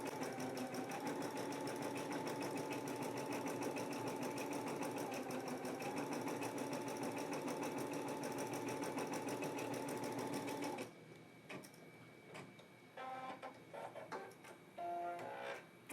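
A Brother embroidery machine stitching thread, with a loud, rapid, steady mechanical whir and clatter lasting about eleven seconds, then stopping abruptly, followed by faint clicks and handling noises.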